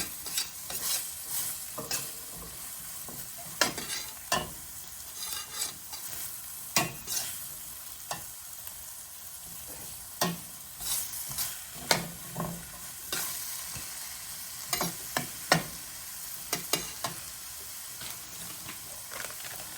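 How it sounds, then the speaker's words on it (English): Spoon stirring shredded coleslaw cabbage in a cooking pot, scattered scraping and clattering strokes over a soft steady sizzle, fairly quiet and with no talking. "We're going to put that in the pot. Give this a big stir."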